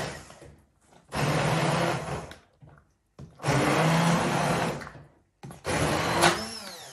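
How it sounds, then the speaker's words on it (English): Blender whirring loudly through boiled vegetables for homemade vegetable bouillon, three separate bursts of a few seconds each with short pauses between, close and dominant. "And now we blend."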